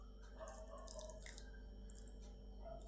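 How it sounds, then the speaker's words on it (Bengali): Water trickles and drips faintly into coriander chutney ingredients such as chickpeas, peanuts and tamarind, a soft, steady splashing with no voices. "কিছুটা জল দেবো।"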